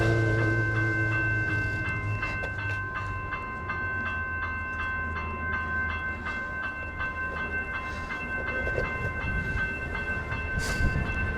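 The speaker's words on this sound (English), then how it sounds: "the train's there" A train at a station: a loud, steady rumble with a sustained tonal hum that runs unbroken from start to finish and close by, with no talking.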